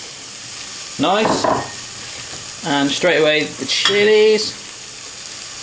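Peppers hit a hot frying pan for a baked bean chilli con carne, giving a steady hissing sizzle beneath a person talking.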